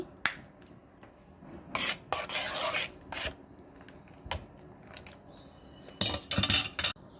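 A spoon scrapes pudding mixture through a sieve, giving intermittent rasping bursts of varying length with quiet gaps between, close and fairly soft.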